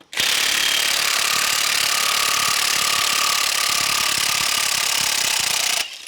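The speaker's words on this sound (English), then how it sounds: "I'm just putting my impact gun on number 2." A loud, continuous pneumatic impact wrench hammers away undoing 4WD wheel nuts for several seconds, then cuts off abruptly.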